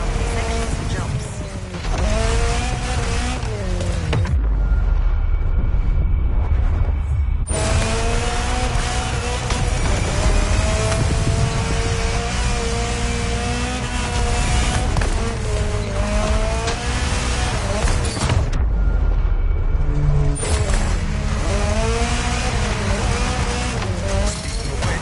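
Car racing off-road in a driving game, engine revving and shifting continuously with tire squeal and brief drops as it leaves the ground over jumps, loud and close throughout.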